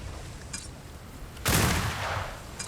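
Small arms gunfire in a video game, a short burst of sharp cracks that follows a faint earlier shot, loud and close, with a rattling tail and no talk.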